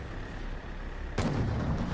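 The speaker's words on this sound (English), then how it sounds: "Some artillery shells are hitting." Artillery shells hitting in the tank game Total Tank Simulator: steady background rumble, then a sudden sharp burst of impact around the middle followed by a heavier, rumbling low-end roar that lingers to the end, with no talk.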